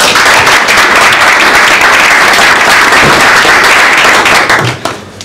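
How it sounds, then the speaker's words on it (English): Audience applause at a World Vegetarian Day 2013 talk, steady dense clapping from a crowd that holds loud for several seconds before tapering off at the end. "So I give Michael a round of applause"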